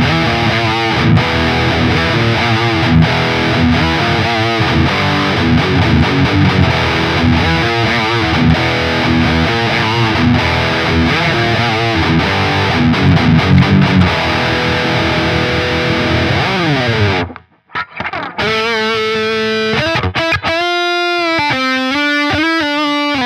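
A Modern Flying V electric guitar played through heavy distortion: sustained, gritty overdriven chords and riffs for about seventeen seconds, then a brief silence and a few cleaner bent notes.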